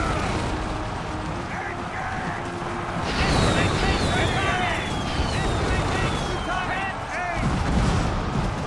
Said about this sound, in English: Oh, here come their howitzers.